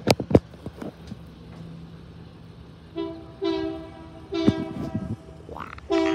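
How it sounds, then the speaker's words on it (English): An NYAR lumber train rumbles along the track at Northport station with a steady low hum, while a horn sounds in a few short blasts over clattering and knocking. "The train's already on the track."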